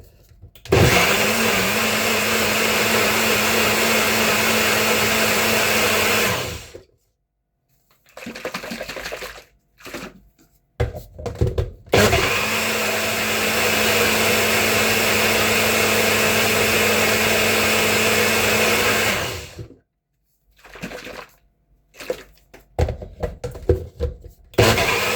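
A blender grinds jerk marinade ingredients in two long, loud continuous bursts of whirring, each several seconds, with short quiet gaps and clatter between them.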